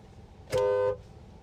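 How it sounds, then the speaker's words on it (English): A single short car horn honk, loud and close, standing out against quiet background hum. "Sorry, I had to honk."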